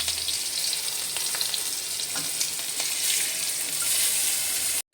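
Green chilli, black cumin and turmeric powder sizzle in hot oil in a village kitchen for a mustard hilsa curry, a steady, close frying hiss that runs the full length with no voices.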